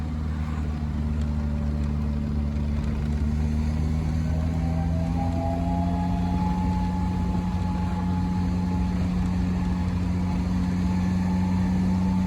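A Triumph Roadster engine pulls uphill on light throttle, a loud, steady low drone whose pitch climbs gradually as the car gains speed.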